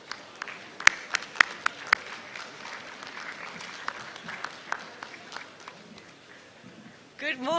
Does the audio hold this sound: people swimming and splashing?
no